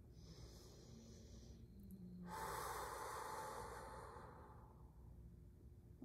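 A single deep breath drawn in slowly during a calm meditation, close and soft over a steady low background hum, swelling for a couple of seconds and then fading.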